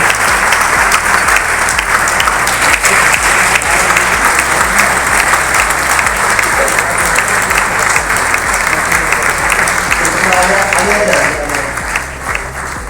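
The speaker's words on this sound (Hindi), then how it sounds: "मैं चाहूंगा जोरदार तालियों से स्वागत किया जाए" A large audience gives loud, sustained applause to welcome top achievers at a Sunday event, continuous clapping under a rhythmic music beat, tapering slightly at the end.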